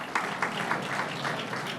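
Audience applause at a New York governor's construction announcement, a moderate, steady patter of many hands clapping in a room, with a few louder claps rising briefly above the crowd.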